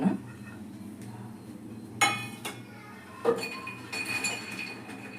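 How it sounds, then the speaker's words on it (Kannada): Roasted makhana tipped from a pan into a vessel, a few sharp clinks of metal on dish with light rattling in between, close and fairly quiet. "ಇದನ್ನು ಒಂದು ಪಾತ್ರೆಗೆ ಹಾಕೊಳ್ಳೋಣ."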